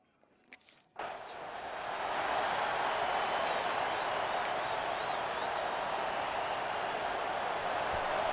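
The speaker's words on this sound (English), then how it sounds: "They challenge this crowd to bring the energy, and I'd say they're doing that." Stadium crowd cheering in the EA Sports College Football video game, a broad distant roar that swells up and holds at a steady level, with no talk over it.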